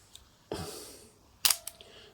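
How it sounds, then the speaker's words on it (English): An Olympus OM-2n film camera shutter fires with a sharp mechanical snap, followed about a second later by a second crisp click as it closes, close up in a quiet room. "That's the shutter opening"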